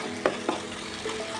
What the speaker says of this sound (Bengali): এবার যা তেল থাকবে ওই তেলের মধ্যেই ওই বাটা মশলাটা দিয়ে দেবো